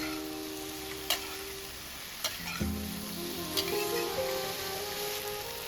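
Eggplant cubes sizzle steadily in a hot pan over medium heat, a soft continuous frying hiss punctuated by a few sharp clicks and scrapes as they are stirred.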